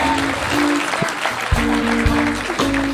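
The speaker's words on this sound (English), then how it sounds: "Make some noise for Hans" A comedy show audience applauds and cheers for a comedian, with steady dense clapping and whoops under an amplified host's voice talking over it.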